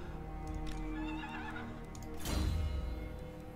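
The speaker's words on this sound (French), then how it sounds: "Alors ici, comme j'avais dit, j'ai un cheval." A horse in the strategy game Total War: Warhammer lets out a loud, drawn-out neigh that swells and fades, with faint hoof clip-clops and a low in-game ambient drone beneath.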